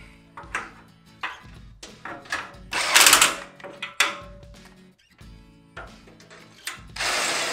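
A bolt on a metal kayak trailer is tightened with a ratcheting hand tool, a series of close rhythmic ratchet clicks and metallic bursts, pausing and resuming several times.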